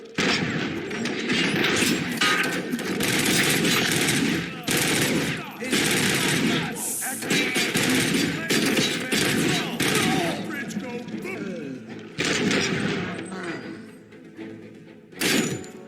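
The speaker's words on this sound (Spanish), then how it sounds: "Con cuidado, que dispara." Rapid bursts of gunfire from RoboCop: Rogue City fill the scene in repeated volleys, dense and close, with short gaps between barrages and a voice talking over parts of the shooting.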